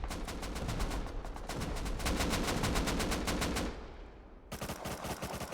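Sustained automatic gunfire in the video game Rust during a 9v9 tournament match, with rapid bursts rattling continuously, briefly thinning out, then a fresh volley of sharp shots, loud and close with no talk.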